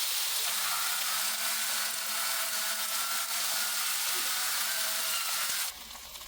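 Food cooking on a camping cooker with a built-in thermostat, giving a steady close hiss of sizzling with a faint low hum, which drops off sharply near the end.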